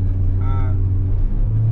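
A car fitted with an app-controlled throttle-control chip pulls away hard, its engine drone swelling briefly into a revving note over a steady low rumble, with people talking inside the cabin.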